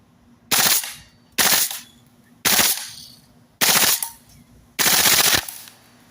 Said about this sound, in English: Let's see what full auto sounds like.